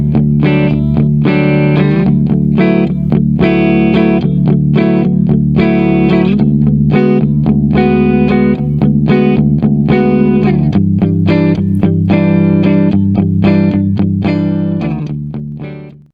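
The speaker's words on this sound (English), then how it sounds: "I've just written a hybrid guitar piece. It's got some low register palm muting with some open strings that are allowed to ring out" Electric guitar through a Zoom G1 Four multi-effects pedal plays a hybrid piece of low-register palm-muted chugs mixed with ringing open strings. The distorted tone is loud and continuous, with no talk, and the last chord fades out.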